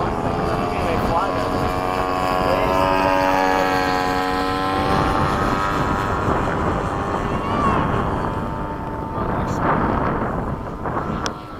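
Radio-controlled model aircraft, an Me-163, landing on a runway, its steady propeller-like whine with shifting harmonics loud and close throughout, mixed with wind noise and a voice talking over it.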